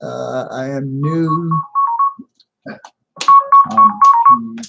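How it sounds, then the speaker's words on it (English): A phone's incoming-call ringtone plays as a repeating electronic melody of short, bright pulses, loud and close. It starts after someone speaks and then sounds alone in a second, longer burst. "That was a phone call from one of my subscribers."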